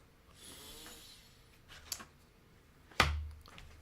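Tarot cards are turned over one by one, with a soft, drawn-out breath near the start, then a few quiet papery flicks and a sharper card snap near the end, all faint and close.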